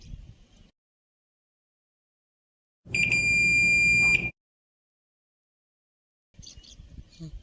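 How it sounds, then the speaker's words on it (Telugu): A multimeter gives one steady continuity-test beep lasting about a second and a half while probing a Redmi Note 10T 5G phone board. It is set between stretches of quiet and faint handling noise. "బీప్ వచ్చింది కాబట్టి కనెక్టివిటీ ఓకే ఉంది"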